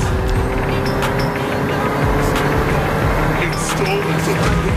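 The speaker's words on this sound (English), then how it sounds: "Hold tight! I'm stepping on the gas!" A car engine in a video game revs and accelerates at full throttle, a loud continuous drone with shifting pitch and a few higher whines and clicks on top.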